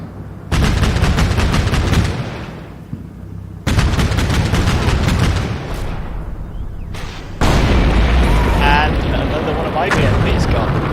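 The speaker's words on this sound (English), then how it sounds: "That's another enemy BMP-2 getting whacked." Repeated heavy bursts of gunfire and explosions from an enemy BMP-2 armoured vehicle being hit and destroyed in the Combat Mission Black Sea war game, loud and close, in three long dense volleys separated by brief lulls, with speech-like sounds mixed in.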